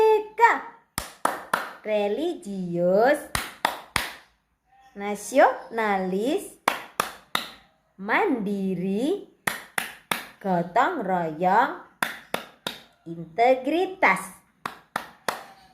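Children clap sharp, rhythmic bursts of a classroom clap chant, the hand claps punctuating their chanted words in a steady call-and-response pattern, close and fairly loud throughout.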